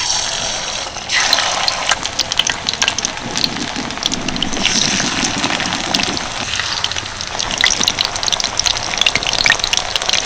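Battered water lily flowers fry in hot oil, giving a loud, continuous crackling sizzle with dense bubbling pops that carries on without a break.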